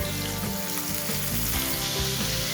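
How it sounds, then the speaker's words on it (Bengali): Loitta fish fry in mustard oil with a steady, dense, close sizzle and crackle that runs without a break. "বাকি মাছগুলো আমি ওই একইভাবে ভেজে নিচ্ছি"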